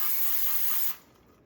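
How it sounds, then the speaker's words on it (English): Brake parts cleaner sprayed onto a brake caliper, a steady close aerosol hiss lasting about a second before cutting off, leaving faint room tone. "just hit these with a little brake part cleaner"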